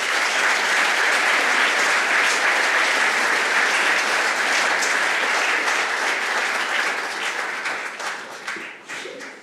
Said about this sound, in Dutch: Geef hem dus een warm applaus.